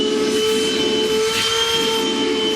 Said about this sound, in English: Now I just want to come back and clean up all of our shavings with the vacuum.